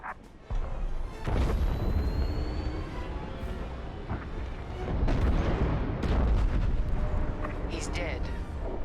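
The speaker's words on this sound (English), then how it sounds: "The frigate is about to explode!" A frigate exploding in the video game Star Wars Squadrons, heavy rumbling blasts and crashing bursts rolling on for several seconds under dialogue and dramatic game sound.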